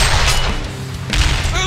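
Rapid gunfire bursts from Flint Beastwood in the game Heroes of Newerth, loud and dense with booming thumps over game sounds.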